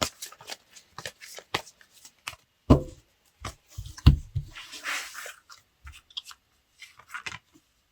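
Aroma tarot cards shuffled and drawn by hand, a string of crisp riffling snaps and soft card slaps in uneven bursts, close and fairly quiet with no talking.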